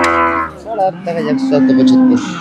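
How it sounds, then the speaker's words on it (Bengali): A Friesian crossbred dairy cow at a Rajshahi city cattle market lets out a loud, drawn-out moo lasting about two seconds, close by, with rising and falling tone amid market background noise. "আর ফিজিয়ান গরু কিন্তু এটা।"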